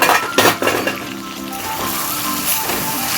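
Lid lifted off a pot of simmering chicken, a brief metallic clink and scrape followed by loud steady sizzling and frying from the open pot, close up with no talking.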